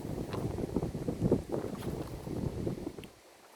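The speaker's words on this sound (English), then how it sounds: "Very windy." Low rumbling gusts buffet the microphone in uneven bursts, a close, boomy roar that drops away abruptly at the end.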